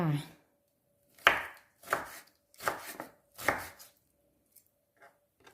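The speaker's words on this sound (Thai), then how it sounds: "ยายก็จะมาหั่นเป็นชิ้นเล็กๆ แบบนี้ก่อน" Four firm knife chops through fish on a cutting board in a slow, uneven rhythm, followed by a few light taps, close and clear in a quiet room.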